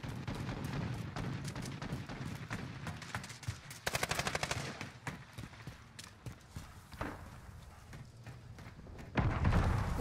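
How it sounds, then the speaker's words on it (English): Gunfire in Call of Duty Modern Warfare, rapid automatic bursts and scattered shots, with a loud fast rattling volley in the middle, amid game noise. "he keeps shooting me"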